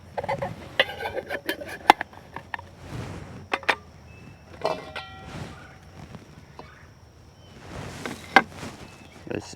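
Small aluminium pots from a Trangia 27-8 alcohol cook set clink and clatter as they are handled nearby, with scattered metallic knocks and scrapes, a few sharper clangs and quiet gaps in between.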